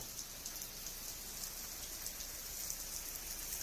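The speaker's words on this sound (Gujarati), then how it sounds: "જોરદાર ધમાકેદાર વરસાદ આવી રહ્યો છે" Heavy monsoon rain with big drops pours down steadily outdoors, a dense, even hiss of rainfall on surfaces with no talking.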